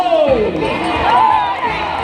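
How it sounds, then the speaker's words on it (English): Crowd at a bird park show in Singapore cheering and shouting for racing birds, a loud, continuous wash of voices with children's shrieks and whoops rising over it. "Barry supporters will have to cheer louder this time"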